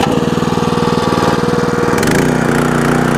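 The small engine of a Red Rock Trencherman mini towable backhoe runs at under half throttle, loud and close, with a fast pulsing chug that shifts to a lower, rougher tone partway through.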